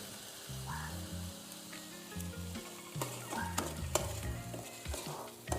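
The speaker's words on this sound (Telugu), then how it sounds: "నిజంగా టమాటా కూడా బాగా పచ్చివాసన పోయి వేగింది." Tomatoes frying in oil for Erragulivendala fish curry, a soft sizzle with spoon stirring and clattering against the pan, under a low rhythmic hum.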